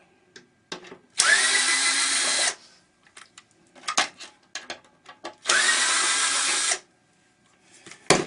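A power drill unscrewing a screw from a TV, two sustained whirring bursts of about a second each, separated by small clicks and handling taps, close and loud.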